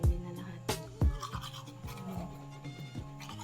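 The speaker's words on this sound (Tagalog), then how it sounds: "tapos na ako mag-toothbrush" A person brushes their teeth with a toothbrush during a morning routine, giving close, uneven scrubbing strokes with a few sharper knocks and scrapes over about three and a half seconds.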